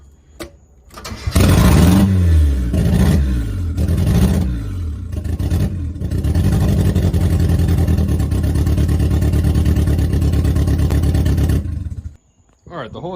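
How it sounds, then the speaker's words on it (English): A 1990 Mazda Miata that sat for seven years cranks over and fires up, then blips through several sharp throttle revs before settling into a steady, loud idle close by, with the loose starter noted as needing work. Speech is faintly present. "Give it a little throttle."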